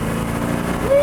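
A high-powered Mercury car engine hums with a steady, close, loud tone, then its pitch climbs sharply as it begins to rev toward roughly 7,400 rpm.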